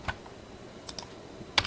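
Computer keyboard typing up close in a quiet room, a few sparse, light key clicks spread across a short stretch with no voices.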